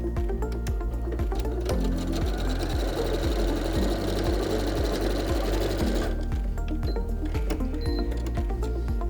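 A sewing machine runs steadily, stitching the side seam of a Santaflex men's toiletry bag and catching the pocket in the seam, with a fast, even mechanical clatter throughout and a brief shift in pitch partway through.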